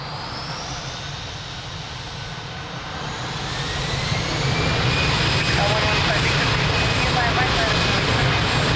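A jet airliner takes off from a runway at Lisbon Airport, its engine roar building steadily into a loud, sustained rush with a rising whine, heard from a fair distance and growing stronger as it goes.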